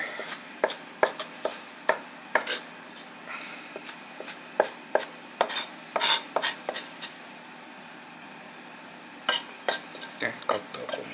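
A knife chops ginger, garlic and dried chili pepper on a board in quick, close, crisp strokes that come in bursts, with a short pause before the chopping resumes.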